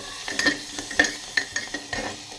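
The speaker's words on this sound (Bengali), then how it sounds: "রসুনের পর অ্যাড করে নেব কেটে রাখা দেখো পেঁয়াজ। একটু নাড়িয়ে চাড়িয়ে নেব।" Crushed garlic and sliced onion are stirred in a frying pan, each pass of the spoon landing as a light scraping clink over a constant sizzle, in an irregular rhythm of about a dozen strokes, close by.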